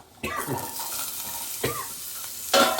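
Coconut pieces and tamarind frying in a spoonful of oil in a pan, a soft sizzle broken by a few scraping stirs and a louder utensil clatter near the end, close and fairly quiet.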